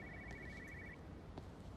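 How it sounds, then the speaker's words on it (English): A telephone rings somewhere in the game Everybody's Gone to the Rapture: a faint, steady electronic trill that holds through the first half and then stops, leaving only a quiet ambient bed. "There's a phone ringing somewhere."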